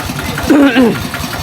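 A farm tractor engine runs with a low, steady chug while a pig is loaded for a year-end celebration; voices talk over it.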